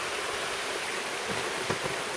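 A waterfall at an outdoor lookout gives a steady, broad rush of falling water, constant and fairly loud, with no voices over it.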